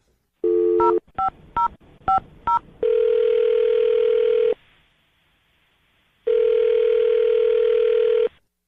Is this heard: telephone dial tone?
yes